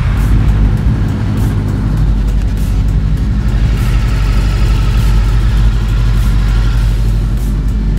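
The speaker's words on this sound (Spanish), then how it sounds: "vamos a escuchar el motor de esta moto" Voge motorcycle engine, 300cc to 650cc, idling inside a dealership, a loud, steady low rumble with an even pulsing throb and slight variations, with no voices.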